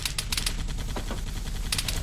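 Rapid bursts of Warthog machine-gun suppressing fire in Arma 3, with sharp clustered shots at the start and end over a dense rumbling battle background.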